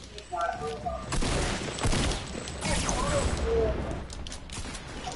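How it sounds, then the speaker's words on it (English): Gunfire in a shooter video game, a fusillade of overlapping shots and mechanical clatter running through the whole stretch, fairly loud and busy, with a voice speaking over it. "I'm getting sniped at."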